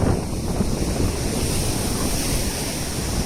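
Ocean waves surge onto the shore in a steady, loud roar of surf with wind noise mixed in, continuous throughout and with no voices.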